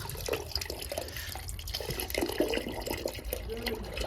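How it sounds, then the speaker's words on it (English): Water draining away, a continuous watery trickle and gurgle with faint dripping, heard close and steady at moderate level throughout. "That's draining good, mate"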